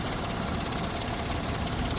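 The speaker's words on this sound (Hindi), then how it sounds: "इंजन बहुत ज़्यादा वाइब्रेट कर रहा है" A Toyota Belta car engine with an RPM fluctuation fault and a 4R ECU runs with heavy vibration, giving a steady, close, dense rumble that holds evenly throughout with no voices.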